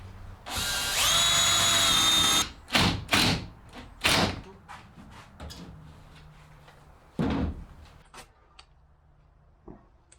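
A power drill drives screws into the corners of a wooden cold frame lid: one long whirring burst, then several short spurts of the motor mixed with thumps and handling knocks.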